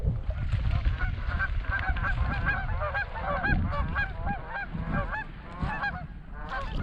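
Many geese honk over and over in a continuous chorus, nearby and fairly loud, with waterfowl calls overlapping across the whole stretch and steady splashing or water noise underneath.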